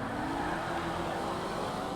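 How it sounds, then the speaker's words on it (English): A Coquette D1 sports car engine in GTA 5 throttles hard, a constant high-pitched racing roar with rising tone, loud and unbroken over two seconds. "you can hear that engine really throttling"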